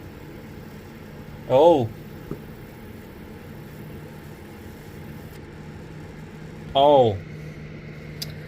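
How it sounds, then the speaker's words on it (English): A malfunctioning PC, reportedly spewing smoke, gives off a steady low whirring hum throughout, broken by two short spoken exclamations. "It's making a weird whirring noise."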